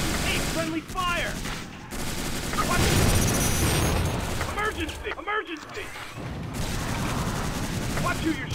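Gunfire in the Tactical Ops Monster Attack shooter game, dense volleys of shots running almost without pause through a busy firefight, with brief lulls and voices shouting over the shooting.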